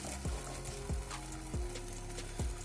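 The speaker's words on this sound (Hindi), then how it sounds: "इसको हम पलट देते हैं। और पलटने के बाद इसके ऊपर हल्का सा ऑयल लगा देंगे।" Makki ki roti (maize flatbread) sizzling in oil on a griddle after being flipped, a low steady crackle with several soft scraping or tapping knocks at regular intervals; no voices.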